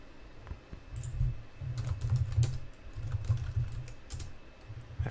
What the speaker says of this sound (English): I have to type to an old friend of mine in the chat.